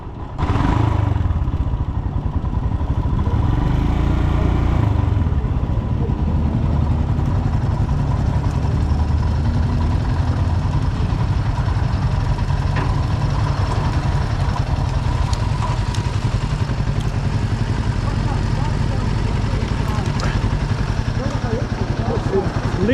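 A Himalayan 450 motorcycle engine idles steadily at a fuel station, a continuous close mid-pitched rumble with clattery texture running throughout, with voices talking over it at times.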